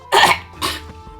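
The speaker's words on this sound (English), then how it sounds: "And have a coughing fit." Two harsh coughs burst out close together, loud and near, the second shorter, with a faint breath between them.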